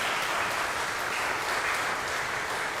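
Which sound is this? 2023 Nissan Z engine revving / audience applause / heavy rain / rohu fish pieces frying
audience applause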